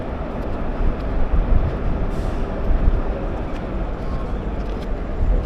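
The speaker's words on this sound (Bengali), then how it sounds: "এই যে সামনে থেকেই ছেড়ে বেরোচ্ছে হাওড়া গুয়াহাটি এক্সপ্রেস" Howrah–Guwahati Express pulls out from platform five at Bardhaman station, giving a continuous heavy rumble and clatter of wheels and carriages that stays loud and even throughout, with no talk.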